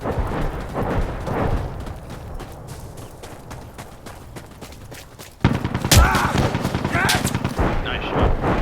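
Gunfire rattles through an Insurgency Sandstorm match, with bursts of rifle and automatic fire, then heavier nearby blasts and explosions in the second half, under occasional player talk.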